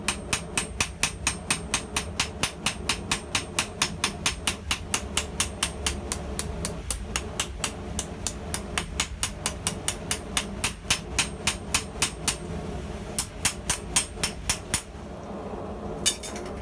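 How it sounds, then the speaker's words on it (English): Steady, rapid ball peen hammer blows texture a forged steel hook bracket on an anvil, each strike a sharp metallic ring in an even rhythm, loud and close, with brief pauses near the end. "I put a little bit of ball peen texture on it."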